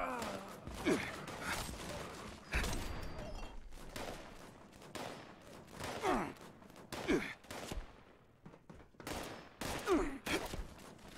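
Gunfire in the online shooter Fallout 76, a series of loud, sharp bursts with scattered shots in between, over steady game ambience and clutter.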